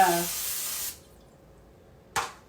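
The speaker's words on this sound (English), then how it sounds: "you want to be sure and spray your loaf pans with" A brief, sharp hiss of aerosol vegetable oil spray onto loaf pans, a short burst following a moment of talk and a quiet pause.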